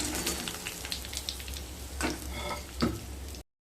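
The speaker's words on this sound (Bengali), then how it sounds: "এইভাবে সমস্ত চাল কুমড়োগুলোকে ফ্রাই করে নেব" Stuffed ash gourd slices shallow-frying in oil, a continuous close crackling sizzle with brief scraping touches from a utensil, ending abruptly in silence.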